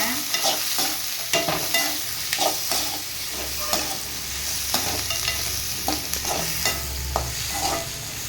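Ingredients stir-fried for egg gravy in a hot pan, a steady close sizzle broken by repeated scraping and clinking strokes of a spoon, with no talking.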